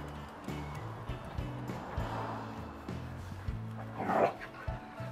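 Two dogs, one black and one brown, bark and whimper in a garden, with a louder burst of barking near the end over a steady background hum.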